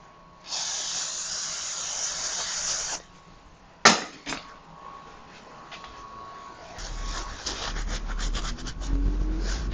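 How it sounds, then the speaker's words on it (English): WD-40 aerosol sprays onto brand-new BMX three-piece cranks in one steady hiss lasting about two and a half seconds. A sharp knock follows, then faint rubbing and clatter. "we're going to use a little bit of WD-40 to clean this"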